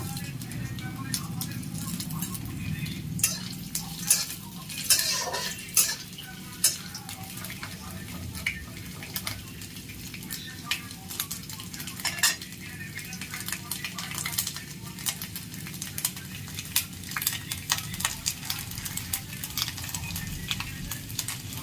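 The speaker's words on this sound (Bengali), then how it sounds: "কড়াতে আমার তেলটা গরম হয়ে গেছে নারকেল কুচিগুলো আমি প্রথমে ভেজে নেবো" Chopped coconut sizzling and popping in hot oil in a wok, with frequent sharp crackles and clicks of stirring throughout; a voice is heard at times.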